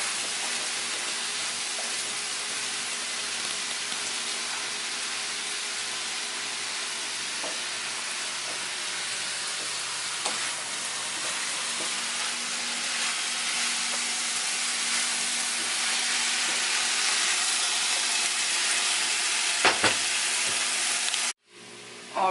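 Tomatoes and vegetables for vegan lettuce wraps sautéing in a pan, a steady hissing sizzle with occasional faint stirring taps, continuing unbroken before a sudden cut near the end.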